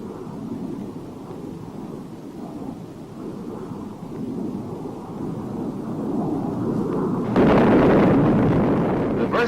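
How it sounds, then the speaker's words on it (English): Thirteen 750-pound demolition bombs dropped from a World War II Flying Fortress go off as a deep, distant rumble of blasts that swells into a louder, heavier burst near the end. "Shown here is the delivery of a partial load composed of 13 750-pound"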